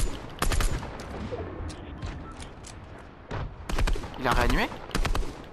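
Gunfire in a shooting video game: several bursts of rapid shots and sharp single cracks, spread across the clip at moderate volume, with someone speaking briefly between the volleys.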